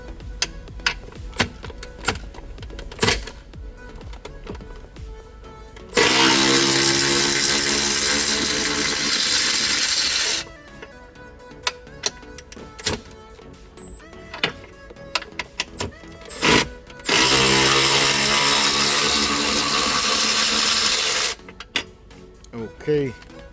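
A power tool spins out 13 mm frame bolts on a Mini Cooper dashboard, two loud sustained whirring bursts of several seconds each, with clanks, rattles and someone talking between them.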